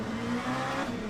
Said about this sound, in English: We've got a lot of cars coming around on track now.